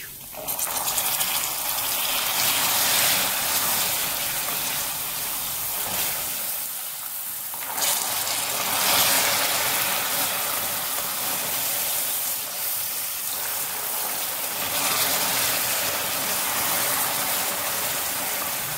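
Water poured little by little into hot caramel for an ant-nest caramel sponge cake, hissing and steaming in a steady, loud rush that surges and eases over about nineteen seconds with no talking.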